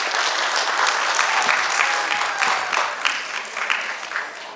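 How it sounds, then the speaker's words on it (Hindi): Loud, dense clapping from a theatre audience after a Hindi stage play, sustained and close, gradually thinning toward the end. "इनके लिए जोरदार तालियां एक बार फिर से"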